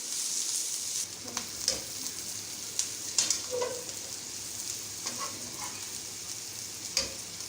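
Cabbage sizzles steadily while being stir-fried with vegetables in a pan, with irregular clinks and scrapes of a utensil stirring through the continuous frying hiss.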